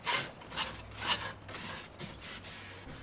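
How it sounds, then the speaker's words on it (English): A sanding sponge rubs over rough-cut lumber on an antique apothecary cabinet, making quiet, rhythmic rasping strokes about twice per second, close and soft. "I'll still make an attempt to pass the sanding sponge over every section I can reach"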